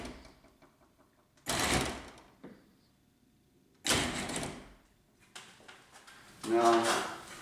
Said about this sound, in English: as we run it up, notice it only goes up part way and stops